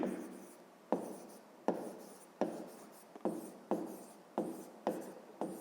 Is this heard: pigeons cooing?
no